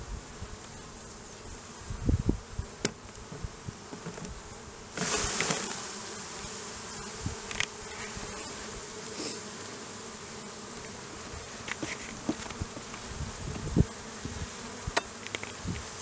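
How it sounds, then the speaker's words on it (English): A dense swarm of honey bees hums continuously, with scattered knocks and rustles as they are shaken off a hive frame into a container, rising into a louder burst midway. "I'm going to shake the bees off of it into a container."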